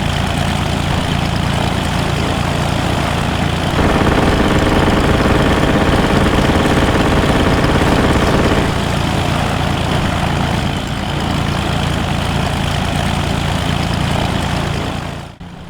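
A biplane's propeller engine drones loud and steady in flight in the game DayZ, with one stretch of harsher buzzing roar before it settles back to a constant hum, heard alone with no talking.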